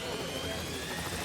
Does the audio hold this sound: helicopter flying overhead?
yes